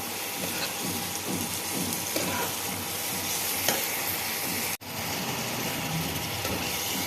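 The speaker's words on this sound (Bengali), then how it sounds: "মশলাটা কষাচ্ছি" Spice masala with ginger-garlic paste frying in oil in a pan, a steady close sizzle with intermittent stirring scrapes and one brief break in the sound, no talk.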